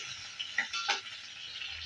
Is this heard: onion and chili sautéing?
yes